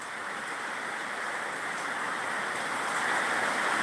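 Steady, dense heavy rain in Anantapur district hisses evenly throughout, a constant wash of falling water with no voices.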